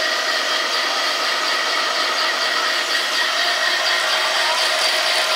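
A Velvet Drive marine transmission fitted with a brand-new pump runs on test, giving a loud, steady, unbroken broadband whir with no pauses or changes.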